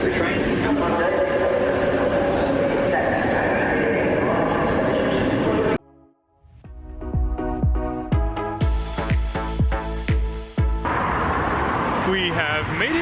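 Train noise rumbles and rattles steadily on a winter ride to Brighton, breaking off abruptly into a brief quiet before clacking and screeching resume with announcements in between.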